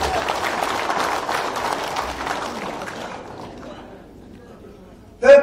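An audience applauds during a political speech, a dense burst of clapping that fades away over a few seconds before a brief loud sound at the very end.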